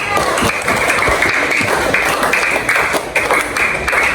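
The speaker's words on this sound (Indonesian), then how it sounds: "tepuk tangan dulu dong buat Bunda" An elementary school class claps for their teacher, a dense, loud, continuous patter of many small hands indoors, with rhythmic pulses and young voices mixed in.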